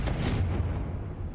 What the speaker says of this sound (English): That's going to make this explosion non-obvious to everyone